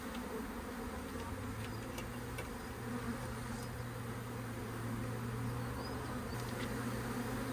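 Honey bees from a five-year-old colony being relocated form a dense, continuous buzzing swarm that holds steady throughout at close range, with a low hum underneath and no talking.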